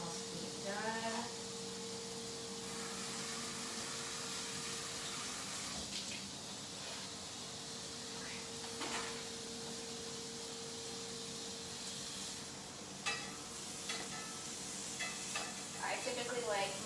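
Steak for fajita rollups grilling beside asparagus gives a faint, steady sizzle and hiss throughout, with scattered clicks and clatter of cooking utensils at a distance and a low background hum.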